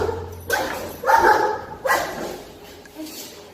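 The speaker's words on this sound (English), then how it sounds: "So the whining and that high-pitched bark" A stressed dog whines and gives several high-pitched barks in short bursts, close and fairly loud, with brief quiet gaps between them.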